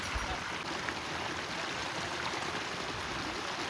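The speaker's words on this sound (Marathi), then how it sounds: "इथे आहे मिनी धबधबा" A small waterfall pours during monsoon rain at Mormarewadi near Kamshet, outside Pune, making a steady, dense rush of water that fills the whole moment without a break.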